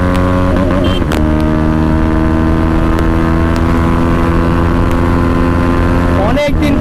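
A motorcycle engine revs hard and holds a loud, steady whine while racing another rider, close to the listener, with short bursts of wind and a person talking briefly.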